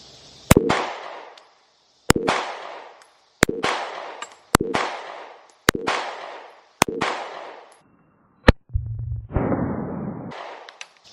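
Smith & Wesson Shield Performance Center pistol fired six times in a slow, even sequence, each sharp loud crack followed by a decaying ring, ending with a brief low rumble and hiss.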